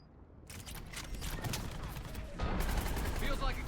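Sustained gunfire in the video game Mass Effect 3, dense overlapping shots and impacts rattling continuously and growing louder partway through, with a voice speaking underneath.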